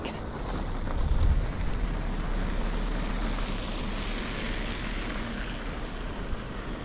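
Strong gusting wind in a city street during a massive snowstorm in Toronto, a steady broadband roar buffeting the microphone, loudest early on and then holding level, with no speech.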